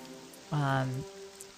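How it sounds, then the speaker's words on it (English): Steady rain falling in the video game Morrowind, a soft even patter throughout, briefly masked by a short tonal voice-like sound in the middle. "this super cozy rain"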